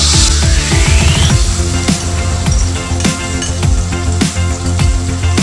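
Loud, steady sizzling of curry paste in a hot pan, with repeated metallic clinks and scrapes of a utensil stirring throughout.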